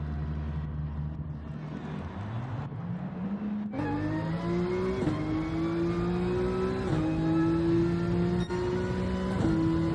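A GT3 race car in a racing video game pulls out of the pits at the Catalunya circuit, its engine droning low and then rising through revs with sharp gear changes, loud and close, with no talk.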